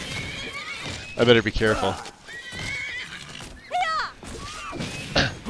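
A horse in the video game Skyrim whinnies with a rising, quavering neigh, mixed with hoof clip-clops and thuds, while someone talks over the game sounds.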